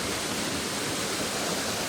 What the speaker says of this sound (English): I'm out here by the waterfall.